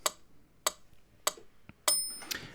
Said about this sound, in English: it's just a metronome, it's just a click sound.